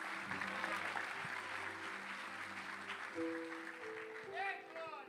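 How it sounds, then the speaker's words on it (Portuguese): A church congregation applauding during a sermon, a steady wash of clapping heard somewhat distant, with a hum and tonal background underneath. "pode aplaudir o Senhor Jesus aí"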